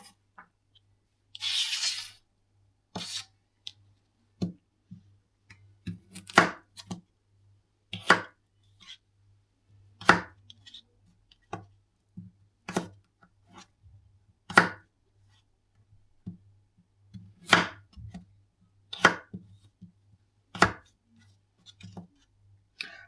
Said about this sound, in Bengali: এটা আমি আলুর সাথে দিব, এর জন্য একটু বড় বড় করে কাটছি।